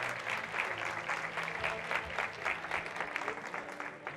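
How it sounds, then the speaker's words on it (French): An audience claps together in a steady, dense burst of applause, moderately close, with no talk over it. "Déjà, vous pouvez vous applaudir."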